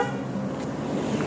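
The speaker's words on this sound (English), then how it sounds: "this Hesargata main road is having a lot of traffic" Busy road traffic on Hesaraghatta main road rumbles steadily, with a faint horn toot sounding briefly in the background over the continuous vehicle noise.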